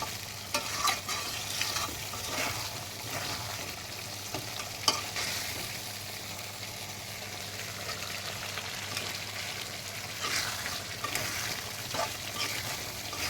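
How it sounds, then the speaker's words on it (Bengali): Goat head meat sizzling and frying in a pan with steady scraping stir strokes, close and continuous, no voices. "এটাকে আর একটু ভাজতে হবে, ভাজা ভাজা করলে খুবই মজা লাগে খেতে।"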